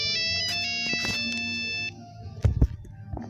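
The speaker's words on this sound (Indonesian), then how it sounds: "Ini adalah nada handphone Nokia." A classic Nokia mobile phone ringtone plays loud and melodic inside a horror video game, cutting off abruptly before a few dull thuds and clicks.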